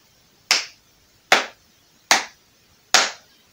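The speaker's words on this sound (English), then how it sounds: "We'll clap our hands and keep the beat." Hand claps from a group sing-along, four sharp claps spaced evenly at a steady beat, close and clear with quiet gaps between them and no talking.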